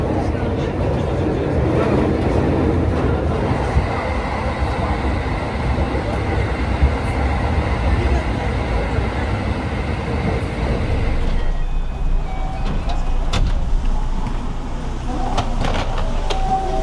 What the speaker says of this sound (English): That train from Osaka was super fast. It was called the special rapid train